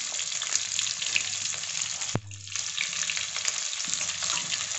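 Onions and garlic fry in oil for a mint rice dish, a loud close sizzle with stirring scrapes, one sharp utensil knock partway through, then the bubbling hiss continues.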